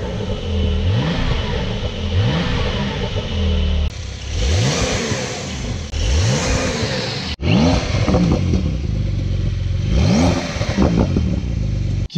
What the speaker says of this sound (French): on va démarrer et voir le bruit que ça fait le nouveau flat 6 biturbo